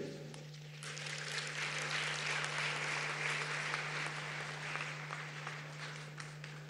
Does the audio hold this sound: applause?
yes